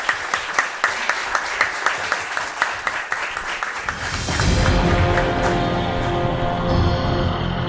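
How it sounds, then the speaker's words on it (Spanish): Studio audience applause rings out on a television mystery show, with distinct rhythmic claps at first. About midway it gives way to a swelling musical sting and low rumble. "Un aplauso pido para él."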